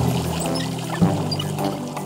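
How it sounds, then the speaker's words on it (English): Water pours from a bathtub tap in a steady, close, continuous splashing stream, with no talk over it. "Just turn the handle to the left and watch the water squirt."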